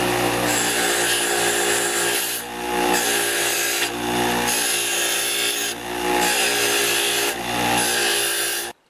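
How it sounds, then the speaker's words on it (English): A motor-driven wire brush wheel scrubbing the inside of a Stihl 4-MIX leaf blower engine cover, a loud continuous grinding whir with periodic dips as the part is shifted against the wheel, close up with no voices. "Now the inside of the cover I will clean on my wire brush."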